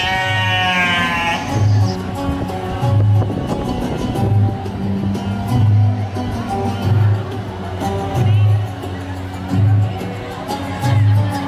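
Young goat bleating in repeated short calls over a steady low hum, set amid a noisy crowd with people talking throughout.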